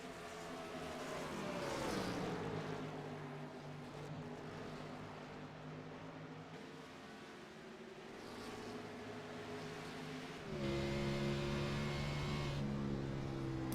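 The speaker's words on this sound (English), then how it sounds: "Listening to that smooth throttle control as it comes off the corner." Onboard engine of the number 7 car in a NAVSCAR race at Dover, droning steadily and fairly quietly, then rising in pitch and loudness as the throttle opens coming off a corner.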